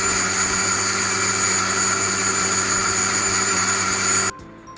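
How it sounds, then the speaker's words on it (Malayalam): A mixer grinder jar whirs steadily while blending kalathappam batter, a loud continuous motor drone that cuts off abruptly near the end. "മറ്റേ സൈഡിൽ നമുക്ക് മിക്സി ജാറിൽ ഈ മിക്സ് അടിച്ചെടുക്കാം."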